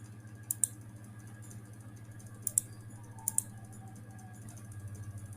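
A few sparse, faint keystrokes on a computer keyboard as an app name is typed, heard alone over a steady low room hum with no talking.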